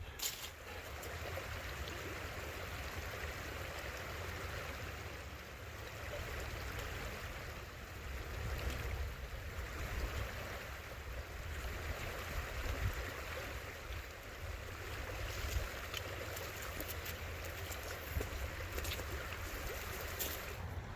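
Steady broadband rushing of water flowing along a small creek on the Tuscarora Trail, continuous and fairly close, with no voices.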